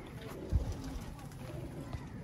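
Pigeons coo softly in an old-style pigeon loft, a low brief call under a steady background hum, faint and without clear speech.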